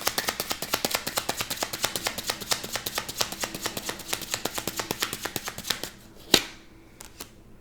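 Tarot cards being shuffled by hand, a fast, steady patter of close, crisp riffling slaps that runs for several seconds, then slows to a few isolated taps with one sharper snap near the end.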